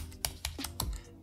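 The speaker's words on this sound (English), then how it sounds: "We would go ahead and type SSH" Computer keys are tapped in a brief burst of four or five close, crisp clicks as an SSH command is typed during a macOS security tutorial.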